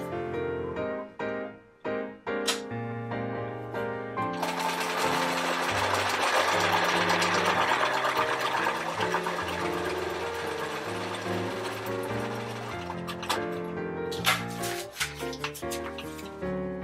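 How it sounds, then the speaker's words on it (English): A sewing machine joins quilt pieces in one sustained, steady whir lasting several seconds, framed by brief stop-start bursts, with background music playing throughout. "Come over here and sew."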